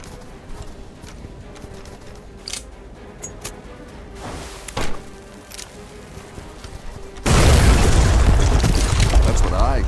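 Rockfall explosion set off as a distraction in Deadfall Adventures, a loud sustained rumbling blast that bursts in late and roars on to the end, after quieter game ambience with scattered thuds.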